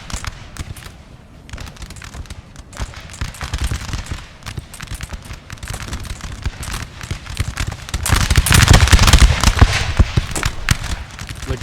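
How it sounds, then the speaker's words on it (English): Musket volleys crackle through a Napoleonic battle in Napoleon: Total War, a dense, continuous rattle of overlapping shots, some sharp and near, others distant, building to a louder surge of massed fire toward the end. "Laguerre still firing volleys in here."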